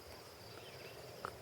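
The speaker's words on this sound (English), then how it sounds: "crickets are humming" Crickets hum steadily in an orchard, a faint continuous high chirring with a soft patter or step near the end, distant and alone with no voices.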